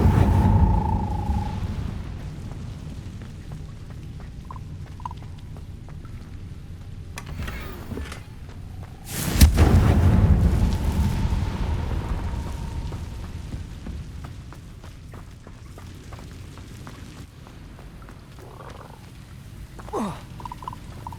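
Bombarda and Confringo spell explosions in the Hogwarts Legacy video game go off: one loud, deep blast booms midway and rolls into a long rumble, with smaller bursts and crackles before and after.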